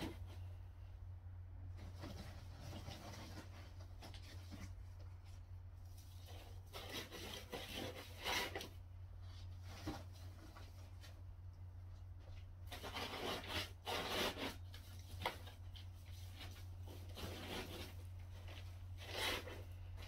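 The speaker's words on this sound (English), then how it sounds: "filled it with shredded paper, it's well protected, put a slip on, and we'll tape that up" Quiet rustling and scratchy rubbing of shredded paper being stuffed around an item in an eBay parcel, with intermittent louder crinkling bursts over a low steady hum, no talking.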